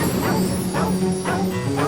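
A dog in a film scene barks loudly and close in a quick run of repeated yapping barks, with whimpering tones between them.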